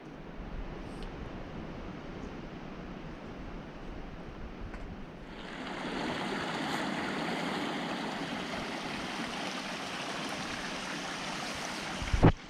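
Creek water rushing beside a trail on Vancouver Island's North Coast, a steady broadband wash that swells louder partway through and continues evenly to a brief knock at the end.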